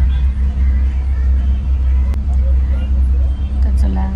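A bus pulls up on a rainy day, its low engine rumble loud and constant through the whole stretch while people talk nearby.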